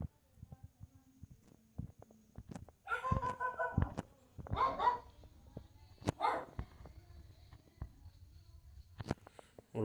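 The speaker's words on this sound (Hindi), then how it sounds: "और बाहर की तरफ कुत्ते भी ज़्यादा भौंक रहे हैं।" Dogs bark outside at night, sharp intermittent barks and yips at middle distance, with louder clusters of barking in the middle and short knocks scattered throughout.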